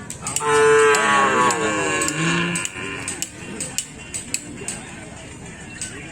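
Cattle at a karapan sapi bull race on Sapudi Island low loudly and close at the start, with a long drawn-out moo followed by a shorter call. Scattered clinks and people talking continue afterward.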